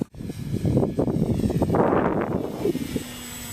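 An E-flite Hawker Hurricane RC model airplane flies past in a gusty crosswind, its electric motor making a steady, loud whine with rushing noise that swells and then eases, heard alone.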